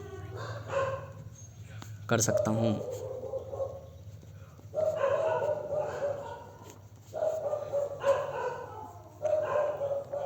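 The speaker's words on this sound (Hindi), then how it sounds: "पता नहीं कुत्ते हैं बवाल है" Several dogs bark in loud, repeated bursts nearby, with clusters of barks separated by short pauses, alongside a person talking.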